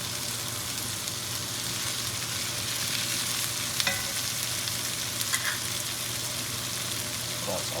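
Tomato added to hot olive oil for a beef brisket braise, a steady close sizzle with faint clinks of stirring, no talk over it.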